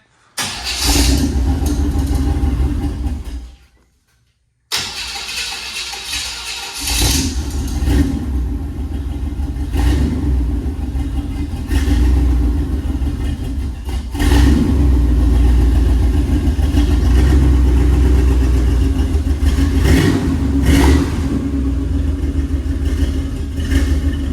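A 4x4 van engine cranks and catches, cuts out briefly, then restarts and runs with loud revving and a rumbling idle, close by.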